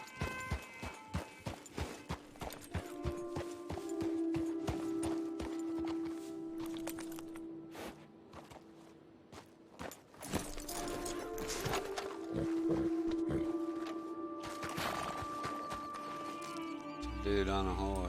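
Horse hooves in Red Dead Redemption 2 Online, a run of rhythmic clip-clop steps at the start followed by a steady trot, with game music and other effects over it.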